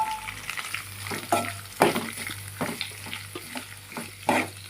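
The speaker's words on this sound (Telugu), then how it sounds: "మొత్తం ఫ్రై చేసుకున్నాక మనం ఉల్లిగడ్డ అయితే వేసుకోవాలి ఇందులో." Fenugreek leaves frying in a pan for a tomato curry, with steady sizzling and repeated scraping, stirring strokes of a utensil close by, no talking.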